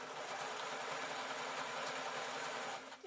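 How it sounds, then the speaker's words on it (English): A sewing machine stitching the bottom onto a felt shoulder bag, a continuous fast mechanical whirr that runs steadily and then slows and stops near the end, with no talking. "And then I'm going to sew the bottom on."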